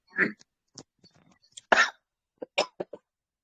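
A speaker coughs repeatedly during a spiritual discourse, several short dry bursts separated by quiet pauses, one stronger hack in the middle, close and alone without talk.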